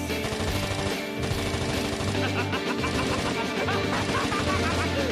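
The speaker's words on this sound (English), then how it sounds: "Gunfire and explosions, that's our cue." Dense bursts of rapid gunfire and heavy crashing blasts fill the scene, loud and continuous, mixed with other background sound.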